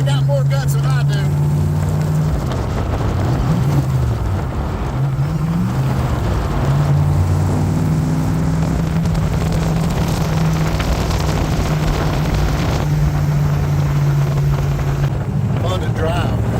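A 1958 Chuck Beck Lister Corvette cruises in fourth gear, its engine holding a steady, droning tone close to the listener, with wind rushing past the open car throughout.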